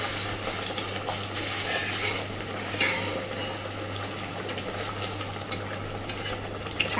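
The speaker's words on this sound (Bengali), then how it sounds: "হালকা করে একটু নেড়ে দেব।" Pabda fish curry stirred gently in a pan as oil rises around it, giving a soft, steady low sizzle with a few light scrapes and clinks of a spatula, close and fairly quiet, with no talk.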